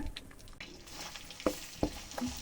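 Fried onion paste hitting hot oil in a kadai, giving a soft continuous sizzle broken by a few sharp stirring clanks and scrapes of a spoon against the pan, with no talking.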